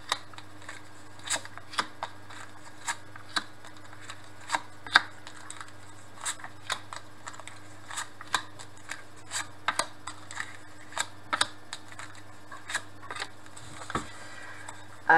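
Tarot cards are cut and shuffled by hand, giving sharp, soft snaps and riffles at irregular intervals over a quiet room hum.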